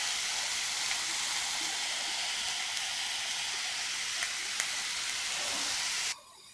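Meat and pumpkin sizzling loudly in a pan, a dense continuous hiss and crackle held close for about six seconds before cutting off abruptly, with no talk over it.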